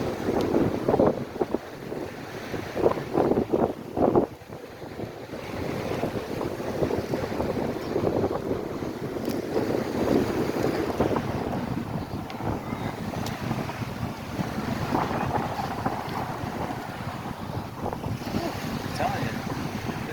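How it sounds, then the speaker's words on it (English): Strong, gusty wind of about 10 to 15 knots roars across a microphone on Fort Myers Beach, Florida, during a beach bike ride, with surf washing underneath. The steady, loud buffeting runs the whole stretch with no talk. "Wind is really strong. It has to be blowing at about 10 knots."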